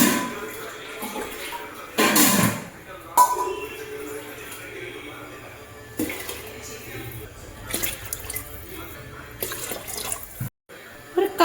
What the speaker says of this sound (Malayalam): ഞാൻ തിളപ്പിച്ച വെള്ളമാണ് ചേർക്കണത്.